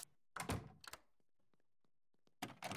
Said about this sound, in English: why is this door locked?